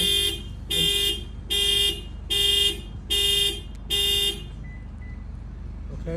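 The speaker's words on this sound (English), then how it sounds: "Okay, so it did have a factory alarm." Factory alarm on a 2023 Toyota Corolla LE Hybrid sounding six loud, evenly spaced electronic honks in a steady on-off rhythm, close by, then stopping and leaving a quiet background.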